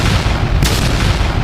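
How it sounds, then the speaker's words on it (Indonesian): A fist punches the ground with a single heavy, booming impact, a sharp burst set within a loud, dense low rumble that carries on before and after the hit. "Tori meninju tanah dengan suara yang keras"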